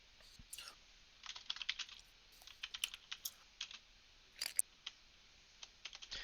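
Typing on a computer keyboard during an online tabletop game session: quick, light key clicks come in scattered bursts, faint and close, with brief pauses between runs.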